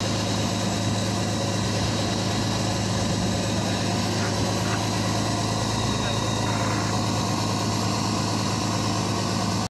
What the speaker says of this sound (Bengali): বঙ্গোপসাগরে ইলিশ মাছের সন্ধানে গভীর সমুদ্রে ট্রলার চলছে।